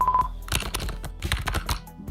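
Computer keyboard typing from a sound-effects pack, a dense, close run of quick key clicks and taps after a short tone, with no voices.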